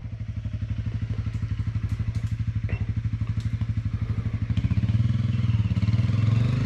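Dirt bike engine chugging on a trail, a loud, close, rhythmic low thumping that swells slightly toward the end as the throttle opens.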